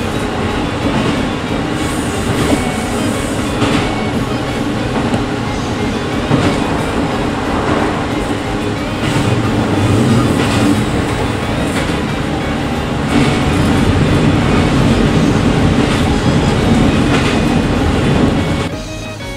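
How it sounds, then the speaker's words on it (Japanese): The limited express Niseko rolls through Zenibako station in Sapporo, heard from on board as a loud, continuous rumble with rhythmic rail clatter and a swell of louder running toward the end. "列車は札幌市に入りまして銭箱駅を通過"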